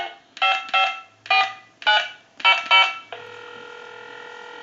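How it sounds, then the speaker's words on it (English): An AT&T 210 Trimline telephone dials six touch-tone beeps in an uneven rhythm, some paired closely, then a steady dial tone takes over and holds, clear and close with no talk. "So we'll go ahead and give you some dial tone,"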